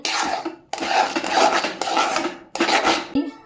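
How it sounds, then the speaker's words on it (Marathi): Khoa roasting in a pan, a spatula scraping and rasping against the metal in several long, loud, close strokes separated by brief pauses, with no voices. "हे बघा, इथं खवा भाजून घेत आहे."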